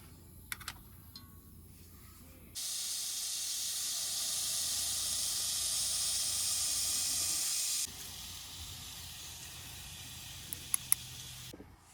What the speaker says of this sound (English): I'm sitting here making the steak on the stove